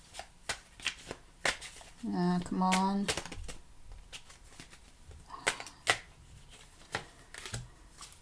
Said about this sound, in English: Let me give it another shuffle here.